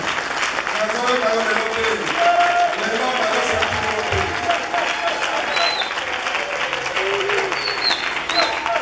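A church congregation applauding throughout, a full sustained clapping from a large crowd with voices calling and singing over it.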